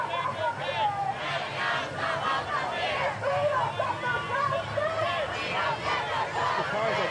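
Protest crowd in Washington DC, a dense, steady babble of many voices with scattered shouts, moderately distant and continuous throughout.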